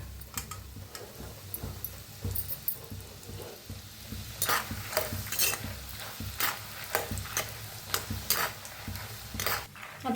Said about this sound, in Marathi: आता घेतलाय डाळगा, डाळगा भाजून घेऊया तेलात.